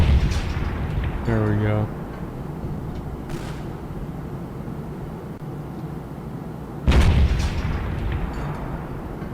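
Powerful 105 artillery shells burst in a video game, two deep booming explosions several seconds apart, each with a long rumbling tail, while someone talks over the action and a brief tonal in-game effect sounds early on.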